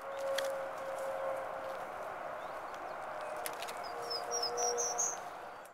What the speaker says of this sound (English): an MP3 player loaded with prairie warbler calls